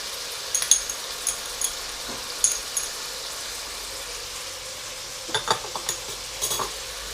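Spices, chilli powder, salt, cinnamon, cardamom, turmeric and ginger-garlic paste fry in a pan for a Gobi Gosht curry, with a soft steady sizzle and occasional scrapes and stirring knocks of a spoon, no voices.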